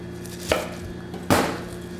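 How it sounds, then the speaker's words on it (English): Fresh Napa cabbage is chopped for kimchi, giving two crisp, close knife strokes through the leaves onto a cutting board, spaced under a second apart, with quiet room tone between them. "you just want to chop it up in reasonable size pieces"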